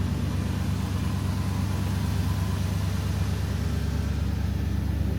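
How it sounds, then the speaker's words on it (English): A 1977 Ford F-150 Ranger XLT 4x4 pickup idles steadily with a deep, throaty exhaust rumble, continuous and close, with no voices. "Take a walk over here so you can hear the exhaust on that side."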